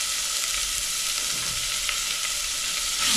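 Garlic and onion sizzle and fry steadily in a hot pan, a dense continuous hiss with faint stirring scrapes, close and fairly loud throughout, no voices.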